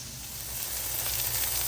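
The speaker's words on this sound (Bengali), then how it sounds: "ফ্রাই হয়ে যাচ্ছে ফিশগুলো" Fish frying in a pan with green chilies nearby, a steady high sizzle that swells slightly louder over a short stretch, close up with no talking.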